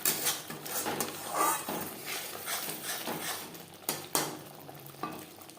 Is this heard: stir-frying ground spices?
yes